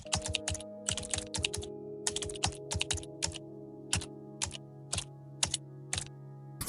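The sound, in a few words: typing a search on a computer keyboard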